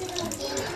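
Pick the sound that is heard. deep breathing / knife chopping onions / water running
water running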